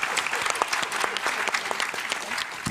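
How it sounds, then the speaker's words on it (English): An audience at a literary panel discussion gives steady, sustained applause, a dense field of claps close by and fairly loud throughout with no pause. "So please give another round of applause for our distinguished guests."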